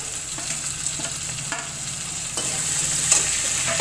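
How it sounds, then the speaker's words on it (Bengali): Garlic frying in a pan, then tomato going in for aloo dum, produces a close, even sizzle with occasional stirring taps and scrapes, growing slightly louder toward the end, with no voices. "রসুনটা একটু ভালো করে এবারে কষে নিই রসুনটা লাল লাল হয়ে গেছে এবারে আমি এর মধ্যে একটু টমেটো দিয়ে দিলাম"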